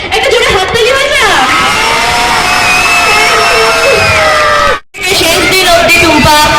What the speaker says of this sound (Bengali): একটা জোরে হাততালি হয়ে যা